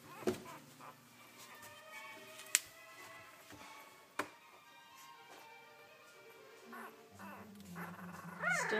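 One-week-old puppies from Callie and Tweed's litter, eyes still closed, give faint high whimpers and squeaks. A couple of sharp clicks and a soft murmur of voices sit in the background.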